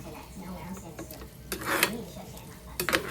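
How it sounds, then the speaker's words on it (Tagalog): Shrimp are stirred in a cooking pan with a spoon or spatula, making faint scraping and sizzling, with two sharper scraping bursts partway through and near the end. "Ayan, haluin lang po natin."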